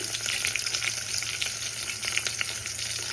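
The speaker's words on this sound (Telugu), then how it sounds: "ఇప్పుడు బాగా ఫ్రై చేసుకోవాలి ఆనియన్స్" Sliced onions fry for chicken biryani with a steady, dense sizzle that holds evenly throughout, close and continuous, with faint stirring scrapes and a low hum beneath.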